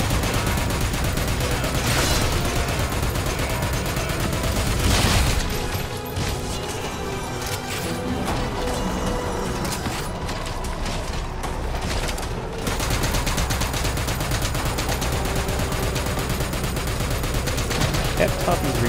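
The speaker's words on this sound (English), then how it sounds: "Some bad shooting." Rapid bursts of gunfire from Metal Gear Solid 5: The Phantom Pain, including light machine gun fire, crackle steadily at close range with dense, overlapping shots and crashing impacts, broken by a short lull before the shooting resumes.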